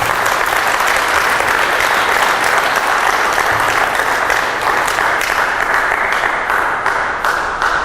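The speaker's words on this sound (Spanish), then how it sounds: "Yo creo que vale la pena aplaudir" A church congregation in Santa Cruz, Bolivia, claps in dense, steady applause that stays loud and unbroken throughout, with no clear voices rising above it.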